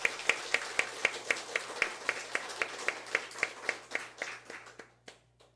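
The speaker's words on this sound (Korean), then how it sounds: "우리 장로님, 권사님들께 축복의 박수 올리겠습니다." A church congregation claps to honour the deaconesses and elders, a near, crisp rhythmic beat of unison claps that speeds slightly and then fades out at the end.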